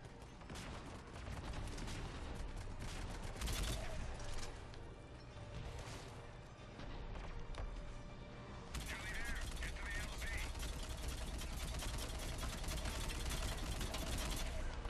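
Rapid gunfire from a multiplayer match of the video game Mass Effect 3 plays loud and continuous, with bursts, mechanical clatter and dense action overlapping throughout.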